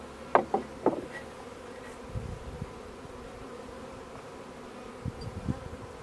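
Bees from a hive set out in the open buzz steadily at close range, with a few sharp knocks and taps near the start and scattered thuds later, no voices over them.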